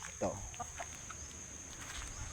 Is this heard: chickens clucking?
yes